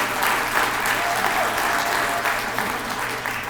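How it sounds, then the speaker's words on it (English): A banquet audience at a hall of fame awards ceremony claps together in sustained, even applause that tapers slightly toward the end. "Let's give them one more round of applause for all the continued work they do."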